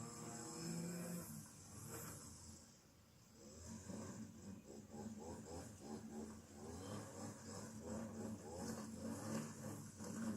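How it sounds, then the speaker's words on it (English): A string trimmer cuts grass outdoors on a sunny day, its engine holding a steady droning whine throughout at a moderate distance, with no talk over it. "Someone is strimming."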